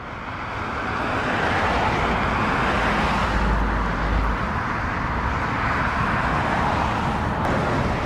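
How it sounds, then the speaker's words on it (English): Road traffic passing during a roadside encounter, a continuous broad roar of vehicles that swells in the first second and then holds loud and steady, with no talk heard. "Again, with this traffic, I can't hear you."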